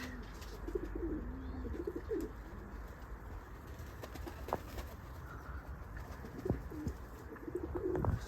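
Pigeons coo softly and repeatedly inside a breeder's pigeon loft. The low, throaty calls come in short bursts over a steady background hum, with no talking.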